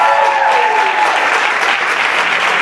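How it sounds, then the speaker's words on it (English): Audience applause at a local community event with a bake-off and performers, a dense steady clatter of clapping hands from a crowd, loud and sustained throughout with a faint whistle-like tone early on. "Can everybody give a round of applause to our judges"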